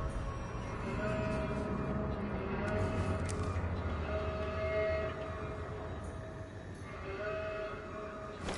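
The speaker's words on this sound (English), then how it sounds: "Turn that siren off." A wailing alarm siren sounds in the World War II shooter game Sniper Elite 4, steady and fairly loud with tonal bands holding over dense background game noise, and a few brief sounds punctuating it.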